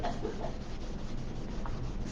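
A cloth steadily rubs wax into a chalk-painted surface, giving a continuous close, soft scrubbing hiss with no pauses.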